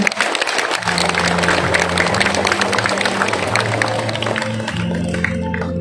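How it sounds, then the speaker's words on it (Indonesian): A church audience at a Way of the Cross tableau performance in Pemalang breaks into steady, dense applause over a low sustained hum. "Mari kita beri tepuk tangan yang meriah untuk si pastinya."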